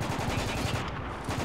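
Rapid automatic gunfire rattles in Spec Ops: The Line, a dense, continuous burst of shots in quick rhythm, moderately loud amid battle noise.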